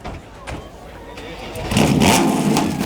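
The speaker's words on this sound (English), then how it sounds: "start your engines, because we're going to hear all of you together" Supercars at the Beaulieu Supercar Weekend fire up, engines catching and swelling into a loud, rising roar halfway through, with a busy outdoor crowd murmuring underneath.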